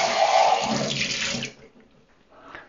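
Water poured out of a stainless milk steaming jug splashes loudly into a sink for about a second and a half, then stops, leaving faint drips and small clatters.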